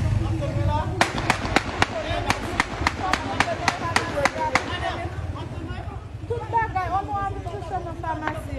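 Heavy gunfire in Port-au-Prince, Haiti: a rapid string of about a dozen sharp, loud cracking shots in quick succession, with voices talking before and after.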